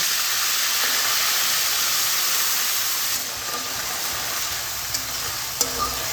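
Ginger paste with a splash of water frying in a pan for a drumstick curry, giving a steady, fairly loud broadband sizzle and hiss that eases slightly midway, with a few small pops and clinks near the end.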